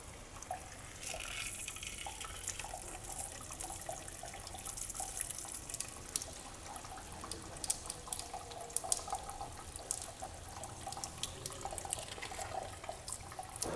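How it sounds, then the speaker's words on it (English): Water runs and splashes steadily from a tap, with irregular spatters and drips as a printed circuit board is rinsed of ferric chloride under the stream, no talking. "remove the PCB from the ferric chloride bath and clean it using the clean water"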